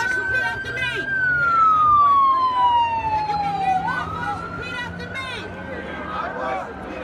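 An emergency siren wails and sweeps downward in pitch, then holds a steady tone, fairly loud over traffic rumble.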